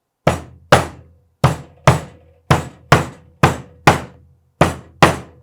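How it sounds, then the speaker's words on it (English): Ten sharp hammer strikes on nails into wood, close and loud, in an uneven rhythm of paired blows with brief pauses between. "Let's go ahead and set all these nails now."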